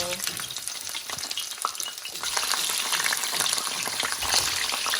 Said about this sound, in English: it's time to begin the frying